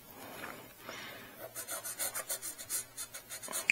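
A bone folder rubs down a brittle page of a Mad comic book during repair, a soft close scraping that settles into a quick series of short, even back-and-forth strokes.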